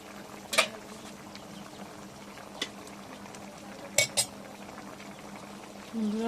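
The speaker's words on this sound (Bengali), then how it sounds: "তরকারিতে বলক উঠে গেছে" A spiced pangas fish curry with potatoes bubbling at a boil in a pot, a soft steady simmer under a few sharp utensil clinks against the pot, heard without speech.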